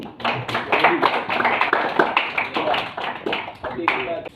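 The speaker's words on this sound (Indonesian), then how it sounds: "tepuk tangan lagi" A classroom full of people claps together, dense and steady, with a few scattered voices mixed into the applause.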